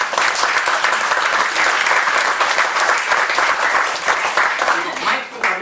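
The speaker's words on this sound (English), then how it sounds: "Big round of applause" Dense, loud audience applause at a business presentation in Malaysia, a continuous wash of many hands clapping that holds steady throughout.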